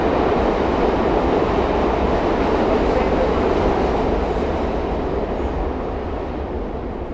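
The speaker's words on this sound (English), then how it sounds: "That's a loud subway, wow. You can hear it from all the way up here." Loud New York City subway train rumbling through Manhattan, a dense continuous roar that fades slightly toward the end, heard from some distance above the tracks.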